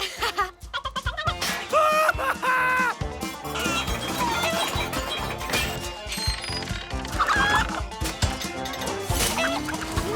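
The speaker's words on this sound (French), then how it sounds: "Ce n'est plus une, mais 3 poules qu'on a en cavale." Several cartoon hens cluck and squawk in a busy, cartoonish animated mix with music and other animal-like calls layered over it.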